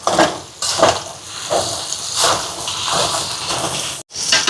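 Onions frying in a pan with added spices sizzle steadily while a spoon stirs them in repeated scraping sweeps, close and fairly loud, with a brief pause near the end before the sizzle resumes.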